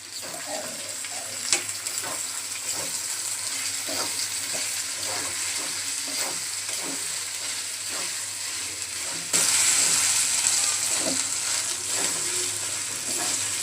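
Spice paste of ground onion, garlic, ginger and cumin frying in a pan, a steady close sizzle with occasional stirring clicks, growing brighter and louder near the end.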